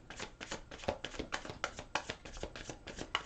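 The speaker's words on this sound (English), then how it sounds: "I'm going to shuffle them a few more times" Tarot cards riffle and slap in quick repeated bursts, a close, soft papery flutter shuffled over and over.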